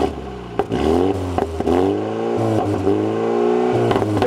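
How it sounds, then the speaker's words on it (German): A BMW M135i xDrive engine idles and revs at a standstill, loud and close, with repeated throttle blips rising and falling and a short pop or clatter between them, no talking. "So hört er sich an, zumindest im Stand der BMW M135i."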